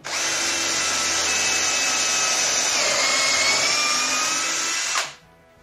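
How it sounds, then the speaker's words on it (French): A power drill bores through two stacked layers of wood, a loud, close, steady whine with a slight pitch dip midway, running about five seconds before stopping abruptly, with no talk. "on va percer notre trou, donc on va percer nos 2 épaisseurs de bois en même temps"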